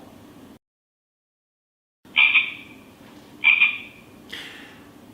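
Frog croaks from a tablet coding app for children, three short loud rasping croaks spaced about a second apart after a brief silence, heard alone without talk.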